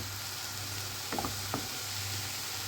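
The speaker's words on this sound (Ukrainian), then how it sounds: "Зараз я смажу на максимальному вогню." Champignon mushrooms fry over maximum heat in a pan, a soft continuous sizzle with a couple of brief utensil taps or stirs midway, fairly quiet and with no voice.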